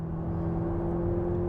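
Ferrari F8 Tributo fitted with a Novitec exhaust, its flat-plane-crank V8 holding a steady, loud drone with a sustained tone throughout, close by and without talk.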